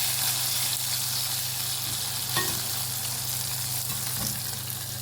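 Fish frying in a pan, a steady close sizzle and crackle running throughout, with a brief clatter partway through as the pieces are turned.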